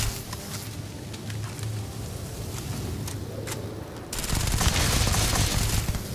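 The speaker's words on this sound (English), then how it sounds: "Shooting at ghosts now." Rapid automatic gunfire in Starfield, aimed at ghosts, rattles in dense bursts that grow louder and heavier partway through, with no talking over it.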